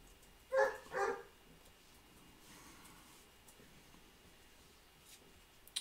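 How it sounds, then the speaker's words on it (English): A dog barks twice in quick succession somewhere in the background, faint and distant in a quiet room during a trading card break, followed by low hiss and small rustles. "What, the dog barking? Yes!"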